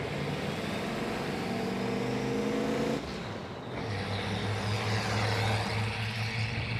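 A turbocharged race car runs its warm-up lap at Laguna Seca, a steady loud engine drone that drops briefly as the driver lifts, then climbs again under acceleration.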